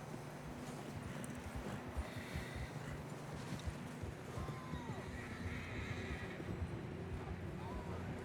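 In the Red Dead Redemption 2 video game, horses whinny and clip-clop steadily along a high trail, with a busy continuous background of hooves and movement, and a few brief neighs rising above it.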